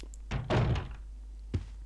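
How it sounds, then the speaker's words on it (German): A door opens in Resident Evil Code Veronica X, heard as a heavy thunk and creaking sweep followed by a short knock-like thud, close and distinct against a low hum. "Ich habe die Tür geöffnet."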